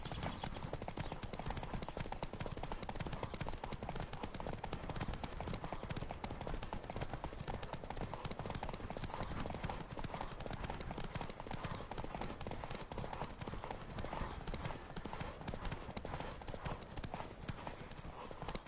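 Horse hooves pound in a fast, continuous gallop in The Witcher 3 video game, close and relentless, with wind rushing alongside the rhythmic clip-clop.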